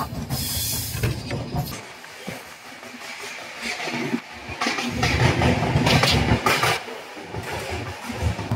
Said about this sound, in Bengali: এখন আমরা অতিক্রম করছি নেলোরে রেল স্টেশন।